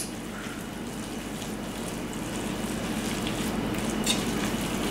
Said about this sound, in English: begin to pour that mixture in slowly while constantly stirring with your tongs